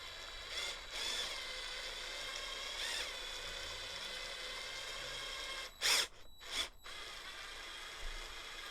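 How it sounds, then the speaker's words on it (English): A big power drill presses pillow ball retainers into the hub of an Arrma Outcast 8S EXB V2 RC car, with two short whirring bursts late on over a quiet, hissy background. "I've resorted to the big drill"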